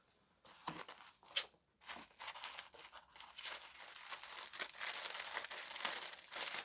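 Gucci tissue paper crinkled and rustled during an unboxing, a run of crisp close crackles and rustling bursts that grow busier and louder toward the end, with no talking.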